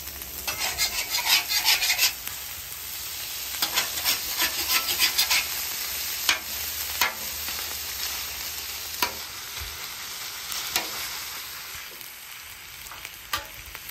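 Carrots and ground beef sauté on a flat top grill, a continuous sizzle punctuated by rhythmic scraping of a spatula pushing food back and forth, busiest early then sparser knocks and scrapes.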